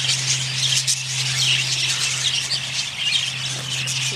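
Parakeets at a zoo keep up a dense, continuous chorus of high squawks and chirps close by, with a steady low hum running underneath.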